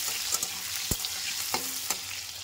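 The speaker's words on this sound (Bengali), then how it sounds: "এবার আমি বেগুনগুলোকেও ভেজে নেব একইভাবে।" Eggplant slices fry in hot oil in a home kitchen, a soft steady sizzle broken by a few sharp clicks and taps of stirring, fairly quiet and with no talking.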